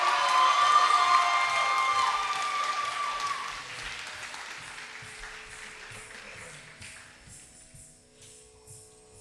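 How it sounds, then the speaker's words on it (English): An audience at a Kuchipudi dance debut claps and cheers for the dancer, with shouts and whistles mixed in. The applause is loud at first and fades steadily over several seconds. "Can we please have one more huge round of applause for Kavya?"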